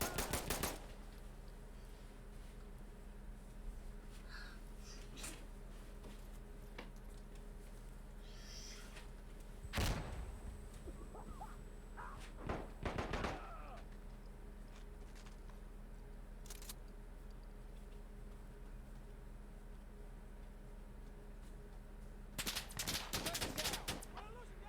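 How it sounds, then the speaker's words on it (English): Gunfire in the video game Insurgency Sandstorm, an M24 sniper match with heavy fire from a rooftop enemy: a few sharp bursts of shots at intervals over a low, steady game ambience with some speech. "taking heavy fire from a guy on the roof"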